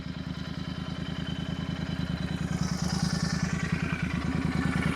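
Royal Enfield 650 twin, GT or Interceptor, fitted with a Level One exhaust, idling close by with a rapid thumping pulse as the throttle is blipped, the engine note swelling louder partway through, no talk.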